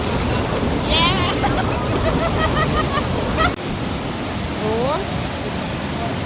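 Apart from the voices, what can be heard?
strong rushing water current at a hot spring resort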